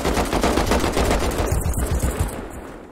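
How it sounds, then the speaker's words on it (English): Rapid automatic gunfire in a video game, a loud close stream of evenly spaced shots emptying a full magazine, trailing off at the end. "Put a whole mag into that fool."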